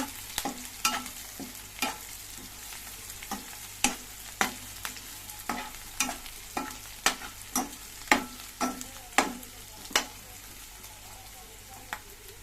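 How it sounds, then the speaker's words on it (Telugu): Chickpea vadas frying in hot oil, a steady sizzle broken by a regular series of sharp clinks and taps roughly every half second, close and fairly quiet, with no talking. "బాగా నూనెలో బాగా వేగుతున్నాయి చూడండి"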